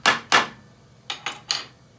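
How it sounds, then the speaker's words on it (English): Mallet taps seat a smaller wooden domino anchor into a wooden foot during furniture assembly, giving two close sharp knocks followed by three lighter ones, each crisp and close. "using a slightly smaller domino, I'm going to tap it home"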